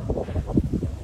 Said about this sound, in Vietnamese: Trời gió to.